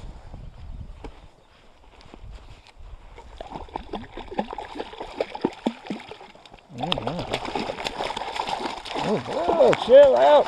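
Hooked fish thrashing and splashing in the water during fly fishing, a faint start then rapid wet slaps and sloshing that grow louder and closer toward the end, with people talking over it.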